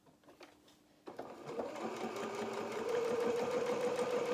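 A sewing machine stitches a row close to the front edge of a small elastic baby shoe, joining the top to its lining; after a quiet start the steady whirring motor runs continuously and grows slightly louder.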